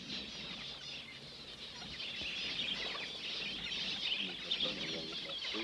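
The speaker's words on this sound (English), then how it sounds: "already the birds have found the water" Many birds chatter and cluck together at a newly built water tank in the Australian outback, a busy flock with occasional wing flaps, moderately distant and continuous.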